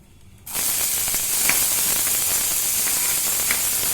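Onions dropped into a very hot pan, a sudden loud hiss that starts after a brief quiet moment and settles into a steady, close sizzle with small pops.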